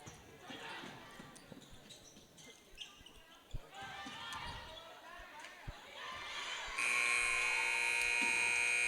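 A gymnasium buzzer ends a period in a girls' high school basketball game: a loud, steady electronic tone blares for about two seconds after ball bounces and crowd noise with commentary.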